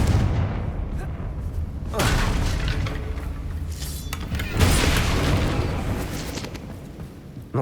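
Confringo fire spell blasts in the Hogwarts Legacy video game: two loud, broad explosive booms about two and a half seconds apart, each trailing into a rumbling crackle that fills the whole span.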